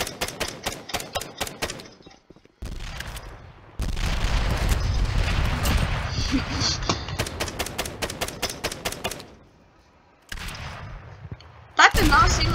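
Bursts of rapid gunfire from a fruit gun in a Roblox shooting game, with loud dense volleys broken by short pauses and a final sharp shot near the end.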